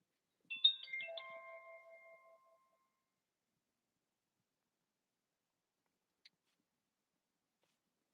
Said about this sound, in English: The vibration from putting my phone back turned my dash cam back on.